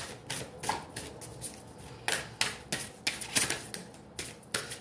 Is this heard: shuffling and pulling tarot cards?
yes